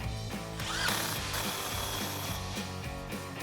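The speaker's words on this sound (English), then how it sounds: "go back to our clamp and take a 15mm socket to tighten it down" Ratchet wrench with a 15mm socket tightening a muffler clamp on a 2021-or-newer Ford Bronco during a muffler delete install, a quick steady run of clicking pawl strokes, close and fairly loud, with no talking.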